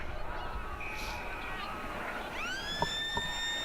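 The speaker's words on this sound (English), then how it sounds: "And the siren has gone." A siren sounds at the end of an Australian rules football match, a short rising, then held tonal wail heard faintly at a distance, mixed with crowd murmur and a voice.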